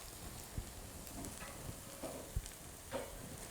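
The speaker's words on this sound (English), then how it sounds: "I'm gonna add the keema." Minced lamb keema frying in a pan with translucent onions, a faint, steady sizzle with a few light knocks from stirring.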